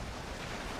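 Steady, loud rush of ocean waves and heavy sea swell in the Valheim video game during a great storm, a continuous broadband wash with no talking.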